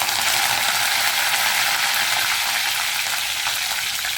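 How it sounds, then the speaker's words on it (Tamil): Curry leaves sizzling in hot oil for a crab gravy: a steady, loud, close crackling hiss runs unbroken throughout, with no talk. "கருவேப்பிலை போட்டாச்சு"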